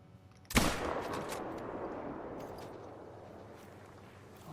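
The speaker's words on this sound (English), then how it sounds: "Oh, I think that was a pretty solid shot." A single hunting rifle shot at a buck in the video game theHunter: Call of the Wild, one sharp crack followed by a long rolling echo that fades slowly, heard alone.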